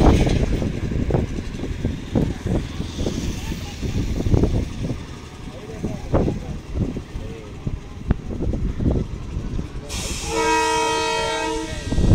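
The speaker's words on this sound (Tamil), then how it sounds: "இப்போ ரயில் என்ஜின் உள்ளே வந்துருச்சு" A train engine rumbles and clanks along over the new Pamban Bridge on a trial run, with rhythmic heavy knocks, then a loud horn blares near the end.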